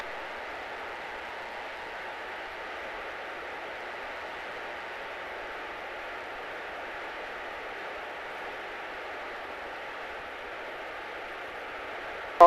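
A small training airplane's engine drones steadily and evenly through a flight lesson, a continuous muffled cabin hum with no talk heard.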